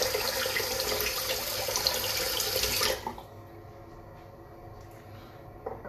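Tap water runs loudly into a sink during a rinse, then cuts off about halfway through, leaving a quiet room with faint drips.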